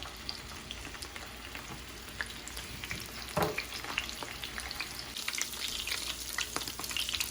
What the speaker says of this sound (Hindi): गोश्त डाल के फ्राई करेंगे